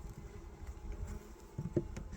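A small swarm of honeybees hums faintly and steadily at a low level, with a few soft taps near the end.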